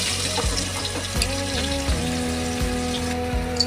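Chopped onion frying in oil left over from frying fish, for an okra and prawn dish. A steady close sizzle runs under background music, with no talking.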